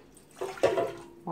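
Warm water is poured into an Oster Expressbake bread maker pan, a short close splash and gurgle of liquid lasting about a second, quiet and alone with no talking.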